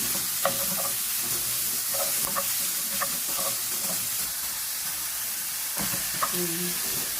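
Minced beef with carrots and potato stirred in a frying pan, a steady sizzle under repeated spatula scrapes and clacks across the whole stretch, with no talk.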